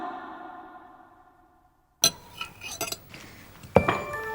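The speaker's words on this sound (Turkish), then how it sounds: "çatalını düşürdü." A fork drops among dishes and cutlery at a family table, giving a sudden metallic clatter followed by a few lighter clinks and one more sharp clank, after quiet music fades out.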